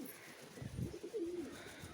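Pigeons kept in cages for sale coo softly, a few low throaty coos rising over faint background murmur, with no talking.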